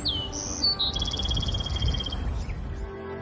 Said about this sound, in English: you can hear the birds chirping and the trees.